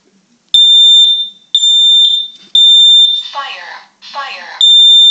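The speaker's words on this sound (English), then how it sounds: "It's a smoke and carbon monoxide detector combo right here. So, let's test it." A combination smoke and carbon monoxide detector being tested indoors: loud, piercing, shrill beeps repeat close by, broken by a synthetic voice announcing a warning between the beeps.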